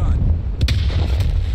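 A stun grenade detonating in Call of Duty Black Ops Cold War online multiplayer, a loud sharp bang with a brief crack over steady low rumbling game noise.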